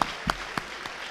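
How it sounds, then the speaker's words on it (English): An audience at a school spring orchestra concert gives a brief round of applause for middle-school players, with a few scattered claps in quick succession. "Let's have another round of applause for the 6th and 7th graders, and of course the 8th graders."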